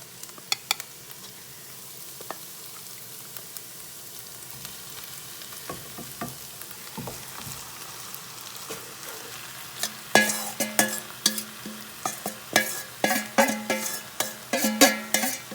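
Marinated lamb fries in a hot pan with a steady low sizzle, then a spoon stirs it in repeated scraping clatters against the metal that grow louder and more rhythmic in the second half.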